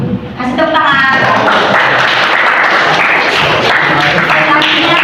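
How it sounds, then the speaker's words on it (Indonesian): A classroom audience at an Indonesian high school gives applause after a group presentation, a loud burst of many hands clapping that starts abruptly and keeps going evenly, with voices mixed in. "Kasih tepuk tangan."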